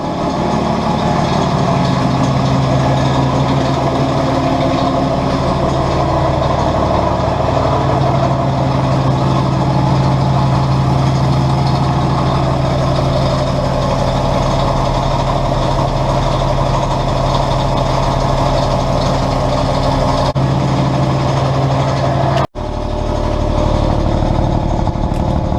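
An old TS3 Commer two-stroke engine runs in a machinery shed with a steady, loud, throbbing drone that holds for a long stretch, with a brief dropout near the end.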